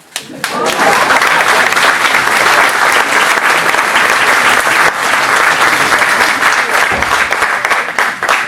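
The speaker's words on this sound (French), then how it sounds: "il va falloir frapper très fort dans vos mains. Tout d'abord, 10 fois. Vous applaudissez." An audience at a French stage play claps hands loudly together, a strong, sustained burst of close, crowded applause that starts abruptly and stays full and even to the end.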